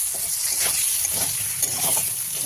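Turmeric and chilli powder sauté in hot oil in a pan: a loud, continuous sizzle with soft stirring scrapes and no one talking.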